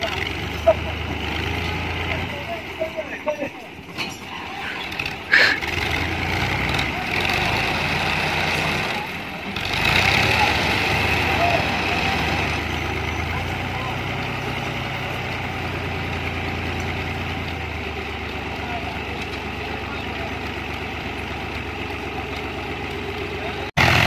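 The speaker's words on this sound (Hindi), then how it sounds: "एक बार फिर ट्रैक्टर जोर लाते हुए" A tractor engine strains under full power trying to pull a heavy trailer whose tire has sunk into the ground. The low, steady engine drone runs continuously while people talk over it.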